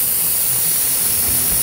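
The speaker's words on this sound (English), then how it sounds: "Always spray it out, make sure it's going good." A spray gun sprays Aztec Gold candy paint in a steady, loud, continuous hiss running unbroken throughout.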